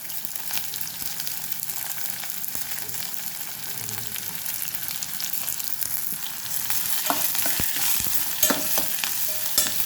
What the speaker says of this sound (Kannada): ಸ್ವಲ್ಪ ಎಣ್ಣೆಯಲ್ಲಿ ಬಾಡಿಸ್ಕೊಳ್ಳುವ